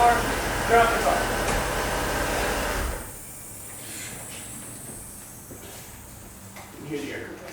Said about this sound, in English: You can hear the air compressor racing.